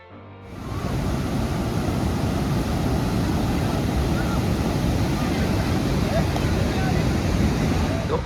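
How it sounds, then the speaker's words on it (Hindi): The 130-metre Keoti Falls in Madhya Pradesh roars as a steady, dense rush of falling water that swells in within the first second and then holds loud and unbroken. "एक 130 मीटर की ऊंचाई से गिरने वाला यह झरना वाकई दिल को छू लेने वाला नज़ारा पेश करता है।"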